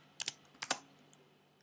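A few quick computer keyboard keystrokes in two short clusters, soft and close, as C++ code is typed in a quiet room.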